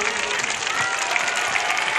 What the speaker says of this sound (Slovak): Zatleskáme im, nech nás počujú.